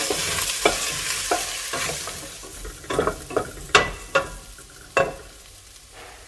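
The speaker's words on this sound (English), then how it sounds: "Give it a stir and saute for 10 minutes." Ground beef sautéing in a pan with salt and pepper, a steady sizzle under repeated scraping stirs of a utensil against the pan, several sharp knocks as it is moved around.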